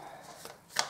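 Tarot cards are drawn and handled in a reading, with soft papery shuffles and slides, then one sharper crisp snap of a card near the end, close and quiet.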